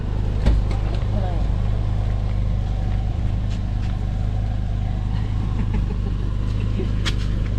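Boat engine running with a low, steady throbbing drone close by, a few clanks and knocks over it and people talking at times.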